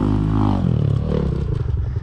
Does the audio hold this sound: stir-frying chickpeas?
no